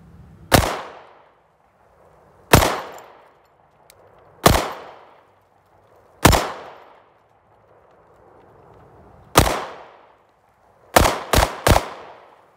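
Smith & Wesson Shield EZ 9mm pistol fired outdoors: six single shots spaced about two seconds apart, then a quick burst of three, each loud crack ringing out with a short decay.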